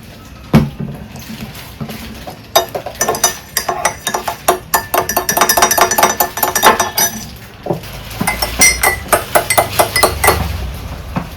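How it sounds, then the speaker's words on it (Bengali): A spoon clinks steadily against a glass while stirring honey into mint tea, giving a run of bright, close taps that come in quick bursts with short pauses between them. "এবার এতে 1 চামচ মধু মিশিয়ে দেবো"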